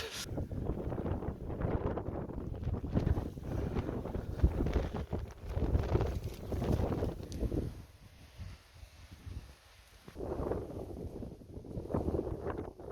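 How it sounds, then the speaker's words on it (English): Wind buffets the microphone in gusts, a steady low roar rising and falling for several seconds with brief lulls. "And it's rather very windy."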